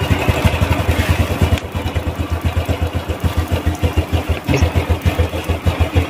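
Honda Revo motorcycle engine, known to die after a little water splash, idles with a rough, uneven close putter that lulls and picks up again as if about to stall.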